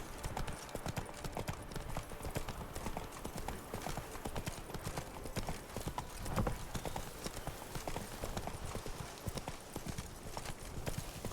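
Geralt's horse Roach from The Witcher 3 Enhanced Edition, heard as steady, fairly close hoofbeats clip-clopping at a brisk gait throughout, with faint game ambience behind and an occasional snort.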